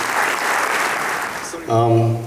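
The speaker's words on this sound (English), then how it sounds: "Can we have a huge round of applause, please?" An audience claps loudly and steadily at a company anniversary celebration dinner, the applause filling the room before it breaks off into a sustained tone.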